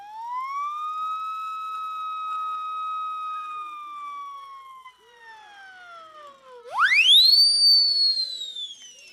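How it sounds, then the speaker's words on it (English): A British fireman's siren whistle, blown near and clear: a long steady tone that slowly sinks, then sweeps sharply upward into a louder, higher wail. "This one is a fireman's whistle, also from Great Britain. It's called a siren."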